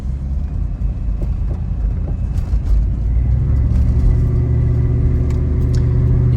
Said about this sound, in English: You can probably hear a little bit of the exhaust note in the car.